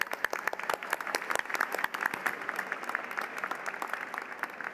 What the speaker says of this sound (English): huge round of applause for those graduating with a Bachelor of Science in Pharmaceutical